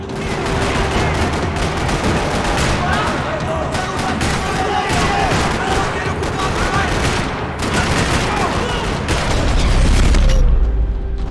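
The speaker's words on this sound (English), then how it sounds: "Another parking lot rattling with gunfire." Dense, continuous gunfire in the video game Max Payne 3, with booming bursts rattling on without pause in a parking lot, loud and close, like a chaotic firefight.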